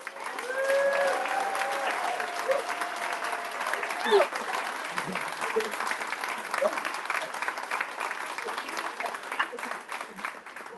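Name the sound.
applause for the running community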